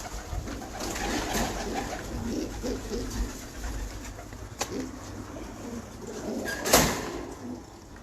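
Champion breeder pigeons coo repeatedly and close by, soft throaty calls overlapping in a steady stream over a constant background hiss, with a few sharp knocks.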